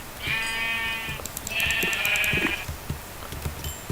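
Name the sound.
sheep bleating in a video game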